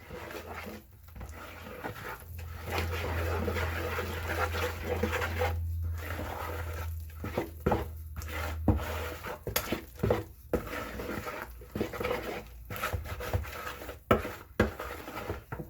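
Grape juice being mixed into dense vegan black cake batter in a bowl, heard as irregular scraping and clinking of a utensil against the bowl with soft wet stirring, fairly close, with occasional pauses.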